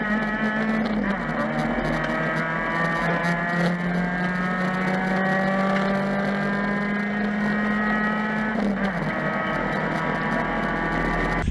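A Vauxhall Vectra race car with a 2-litre engine lapping Rockingham circuit gives a loud, steady engine drone that holds one pitch and shifts briefly at about the first second and again near the ninth, with no talk.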